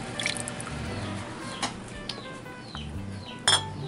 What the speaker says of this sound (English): I am getting my jars out now.